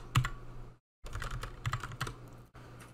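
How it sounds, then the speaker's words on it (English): Steady typing on a computer keyboard while entering text in a word processor, a quick run of close, soft key clicks broken by a short silent pause before the tapping resumes. "when I have it selected, I can just start typing"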